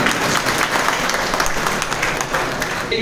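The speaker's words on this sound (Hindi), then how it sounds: "मैं चाहूंगा जोरदार तालियों से उनका स्वागत करें।" Dense, steady applause from an audience welcoming a politician at a Lok Sabha election meeting in Dhamtari, a continuous wash of clapping that holds at an even level for the whole stretch.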